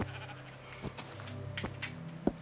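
Sheep bleating in the Minecraft video game, a few short bleats over a steady low hum of game background noise, with no voices.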